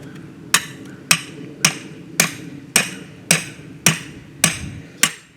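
Hammer driving a trap anchor with a fender-washer swivel into the ground, ten evenly spaced sharp metallic blows about half a second apart, close and loud, no talking.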